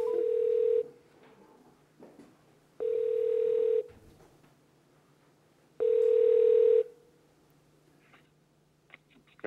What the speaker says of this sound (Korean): 정가람 배우와 전화 연결 한번 시도해 보도록 하겠습니다